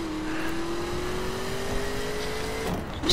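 Car speeding down a road in The Crew racing video game, a steady engine drone with a slowly rising tone held throughout, fairly close and alone with no talk.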